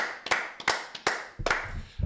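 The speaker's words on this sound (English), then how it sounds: "Fuad, round of applause for you, mate." A few people clap on a live football talk show: a short, sparse round of about five or six distinct claps, fairly close, with no talking.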